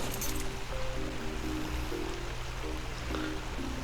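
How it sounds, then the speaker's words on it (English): Loud, steady rushing water from a game world in Ark Survival Evolved, a constant stream-like wash filling the whole moment, with soft tonal game music notes sounding faintly over it. "But that water is loud."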